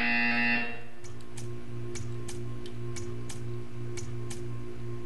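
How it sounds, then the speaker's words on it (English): A loud, harsh electronic buzzer sounds briefly, then gives way to regular soft ticking over a steady low hum, from the video game Portal 2. "You will hear a buzzer."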